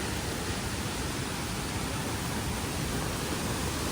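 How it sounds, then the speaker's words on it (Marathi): Somtirth waterfall near Malgund and Ganpatipule pours down at full force, a dense, unbroken roar of rushing water that fills the whole stretch, loud and steady with no voices. "फुल स्पीडली पाणी प्रचंड वेगाने खाली जात आहे"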